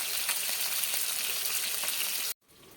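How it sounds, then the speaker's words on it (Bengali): Small carp fry in hot oil in a pan, a steady loud sizzle with bubbling crackles that runs continuously before cutting off abruptly into quieter sizzling. "চারাপোনা মাছটাই ভাজতে বসিয়ে দিয়েছি।"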